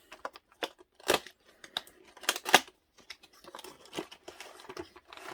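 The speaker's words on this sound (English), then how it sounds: "Just 4 cuts of tape." Tape cut and peeled on an Obi-Wan Kenobi Black Series figure box, heard as a close series of sharp slicing and crinkling bursts with soft rustles between them, no talking.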